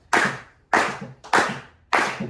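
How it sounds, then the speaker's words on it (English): A group claps hands together in time during a rhythm and music therapy workshop: four loud, evenly spaced claps, each with a short ringing decay. "we can help them by clapping our hands to the beat"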